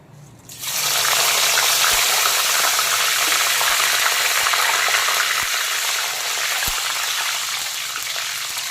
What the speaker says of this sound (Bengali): এখন আলু ভাজার তেলেই দিয়ে দেবো প্রথমে গোটা গরম মশলা, তেজপাতা আর শুকনো লঙ্কা ফোড়ন